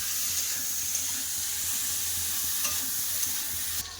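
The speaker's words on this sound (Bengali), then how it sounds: "কফিটা একটু লাল করে ভেজে নেব" Cauliflower frying in hot oil in a pan for a fish curry, giving a steady, continuous sizzle with faint stirring scrapes throughout.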